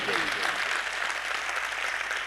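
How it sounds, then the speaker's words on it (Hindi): An audience at a mushaira poetry gathering in Pant Nagar breaks into sustained applause, a broad crowd clapping that holds steady, with a brief voice or tone heard near the start. "मैं चाहता हूं आप सबकी एक बार तालियां उठे इस बेटी के लिए।"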